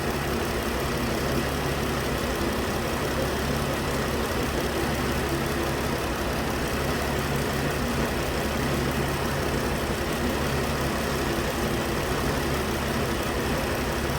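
A 2013 Ram with a 3.6 V6 engine idles with a misfire, a steady close rumble that continues unbroken for the whole stretch with no talking.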